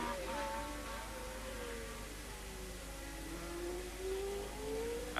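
A 1979 Formula 1 race car engine at the Belgian Grand Prix, driving through the final corners, a steady high whine that sweeps up and down under crowd ambience, moderately distant.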